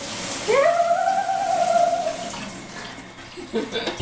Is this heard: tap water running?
yes